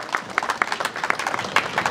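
An audience at a renewable energy showcase event claps in a brief, moderately loud burst of scattered, uneven hand claps.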